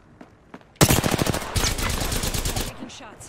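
Rapid bursts of automatic gunfire in a fast-paced shooter video game, loud and dense, starting abruptly after a quiet lead-in and continuing as sustained rattling volleys almost to the end.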